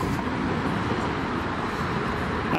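Continuous heavy traffic on Moscow's Third Ring Road roars at a moderate distance, a dense, even wash of engine and tire noise.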